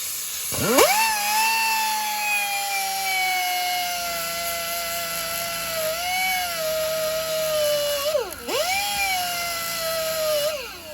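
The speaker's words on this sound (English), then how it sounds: "So what I'm going to do is cut this, and I'm going to use a cutoff wheel or whatever you have." A cutoff wheel slices through a plastic heater inlet control valve on an Infiniti, a loud, close, high whine that spins up, holds steady, then dips and surges as the wheel bites into the material.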